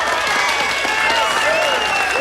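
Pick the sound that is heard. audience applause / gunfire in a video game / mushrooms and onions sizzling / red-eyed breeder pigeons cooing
audience applause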